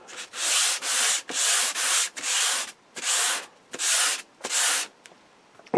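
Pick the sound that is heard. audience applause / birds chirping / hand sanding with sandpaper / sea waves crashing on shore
hand sanding with sandpaper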